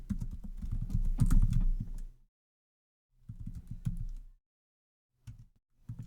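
Computer keyboard typing in bursts of quick key clicks, a long run followed by a shorter one and a few brief taps, close and fairly quiet with no talk.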